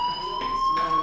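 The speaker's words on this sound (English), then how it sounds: "do you hear that fire alarm?" A fire alarm rings in the video game Life is Strange, a steady electronic tone holding one pitch with a brighter pulsing layer, loud and continuous throughout.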